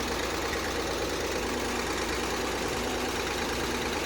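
A 1961 Corvair Lakewood engine idles steadily after its first start in 25 years, a continuous close, loud mechanical drone with a slight knocking texture and no break or speech.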